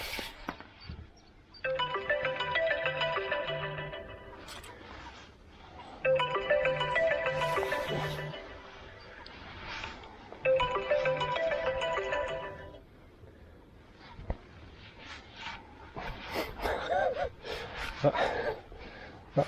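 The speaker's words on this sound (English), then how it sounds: "That phone call couldn't really have come more of a worse time, could it?" A mobile phone ringtone plays in three repeated melodic bursts beside a UK canal during a fishing session, fairly loud and close, with gasps, laughter and talk filling the gaps.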